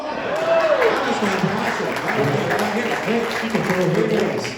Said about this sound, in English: We're clapping for you.